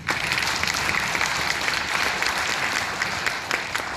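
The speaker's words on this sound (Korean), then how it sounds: "여러분 박수 한번" Guests at a book launch event in Korea applaud together, a close, loud burst of many hands clapping that holds steady with a few sharper claps standing out throughout.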